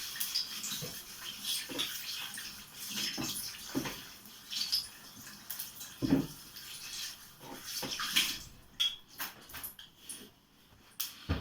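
Running water splashes from a tap with irregular rubbing and splashing, moderately near, with occasional clinks in a quiet room.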